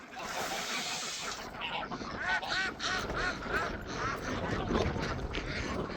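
Ducks quack in scattered, overlapping calls near a coop, moderately close, over a steady background hiss with no voices.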